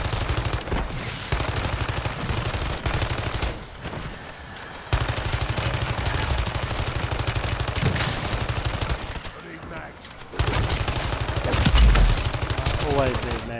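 Automatic gunfire from the video game Modern Warfare 3 Zombies rattles in loud rapid bursts separated by short pauses, dense and continuous through most of the stretch.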